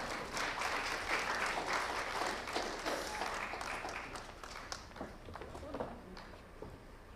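A crowd at a conference opening ceremony applauds steadily for several seconds, fairly quiet and distant, with the clapping gradually thinning toward the end.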